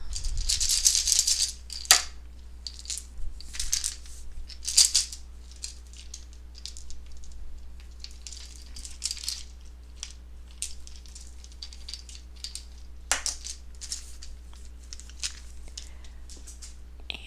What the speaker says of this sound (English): I shuffle around and get you guys some charms